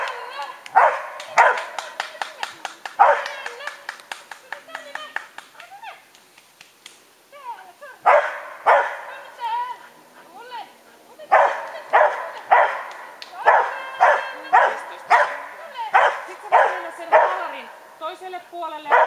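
A dog barks in repeated loud, close bursts with yips and whimpering sounds between them during a pet's mental-health assessment test, with a person speaking at times.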